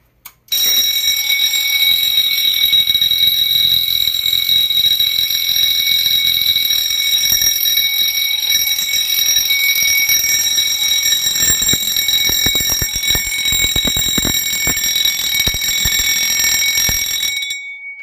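A fire alarm system under test sounds continuously and loudly for about seventeen seconds, a steady high-pitched electronic tone with no breaks, starting abruptly and cutting off at the end.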